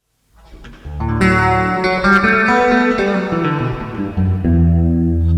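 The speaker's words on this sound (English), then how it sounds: "So that's just huge reverb, right?" An electric guitar played through a huge reverb with the distortion switched off, a chord struck after a brief silence and left ringing in a long, lush wash that slowly thins.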